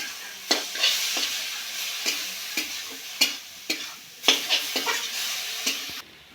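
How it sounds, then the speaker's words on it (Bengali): Mustard greens with onion, green chilli, salt and oil are stir-fried in a wok, a steady close sizzle broken by repeated scraping strokes of the spatula against the pan, then stopping abruptly at the end. "এবার নাড়াচাড়া করতে হবে অথবা ভাজার কাজ চলছে।"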